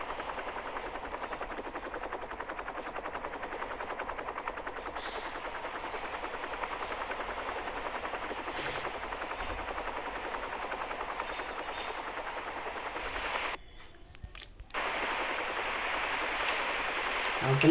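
In the mobile game Vegas Crime City, a helicopter's steady rotor roar runs continuously with bursts of gunfire mixed in, loud and close, dropping out briefly near the end before resuming.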